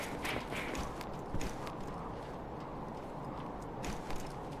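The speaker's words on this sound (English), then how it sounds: "You can hear footsteps." Rhythmic footstep taps in a competitive video game match, clattering fairly close under a dense bed of game ambience and noise, with no talking.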